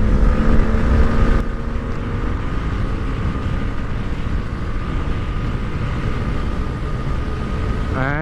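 A Honda Hornet 160 motorcycle runs at full throttle during a drag race, its engine a loud, steady drone with wind rush throughout.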